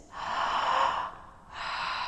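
Deep belly breathing during a standing balance yoga flow: two long, airy breaths, the first drawn out for about a second, then a short pause before the next, close and fairly loud with no talking.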